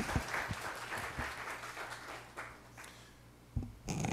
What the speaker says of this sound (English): I'd like to have you give him a round of applause for the kind of support he's given us